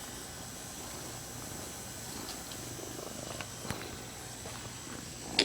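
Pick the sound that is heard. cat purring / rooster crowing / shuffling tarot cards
cat purring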